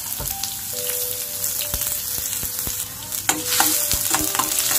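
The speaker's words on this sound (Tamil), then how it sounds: "வெங்காயம் வந்து சிவக்கு அந்தளவு வந்து வதக்கிக்கோங்க" Finely chopped medium onion sautés in a pan for upma, with a steady, close sizzle and spatula scrapes tapping and clinking against the pan throughout.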